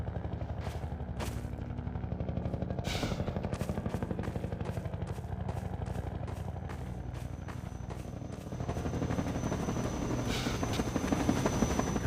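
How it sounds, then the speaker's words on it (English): The Combine attack helicopter in the video game Half-Life 2: its rotor thuds rapidly and steadily, with bursts of gunfire and sharp clattering impacts over the continuous chopping drone. "Combine Attack Helicopter."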